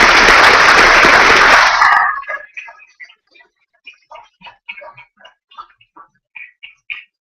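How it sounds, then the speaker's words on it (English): Audience applause for youth graduates at a school graduation ceremony, a loud dense burst of clapping for about two seconds that cuts off, followed by a few scattered, sparse individual claps. "if you still have a few claps left in your hands, let's congratulate this amazing group of YIPI graduates"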